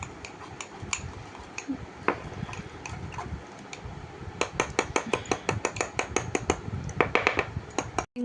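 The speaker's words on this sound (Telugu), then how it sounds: "ఇంగ్రీడియంట్స్ అన్నీ అట్లా మిక్స్ చేసేసుకొని అట్లా ఒక లేయర్ లెక్క ఉంచుకోవాలి." Oreo mug cake ingredients are stirred in a mug with a spoon, producing rapid, sharp clinks and taps against the ceramic that come in quickening bursts, close and clear, with no voices.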